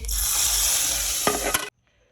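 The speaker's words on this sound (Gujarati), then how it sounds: "હવે આપણે કઢીમાં પાછો એકવાર વઘાર કરી દઈએ।" Loud, close sizzling of spices and curry leaves hitting hot oil for tempering a Kathiyawadi vegetable kadhi, a bright crackling hiss with a couple of stirring clinks, then it cuts off abruptly into near silence.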